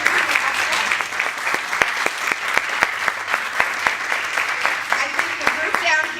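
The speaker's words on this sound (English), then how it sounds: "the group down here gets a particularly good round of applause." Audience applause at a physical examination teaching session in Porto, many hands clapping in a sustained wash with sharp individual claps standing out, and talk faintly underneath.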